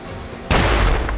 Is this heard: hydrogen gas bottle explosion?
yes